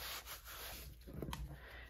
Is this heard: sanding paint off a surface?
yes